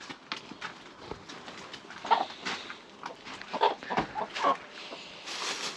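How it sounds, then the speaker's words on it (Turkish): Chickens cluck softly in a German village yard in Driedorf, giving scattered short calls at an irregular pace against a quiet background. "Tavuklar bekliyor."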